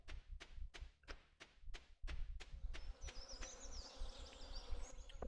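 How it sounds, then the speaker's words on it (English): Bees buzzing in a farming video game, a rapid series of sharp thumping taps followed by a high, wavering buzz that carries on to the end, moderately loud. "Oh no, bees. Not the bees!"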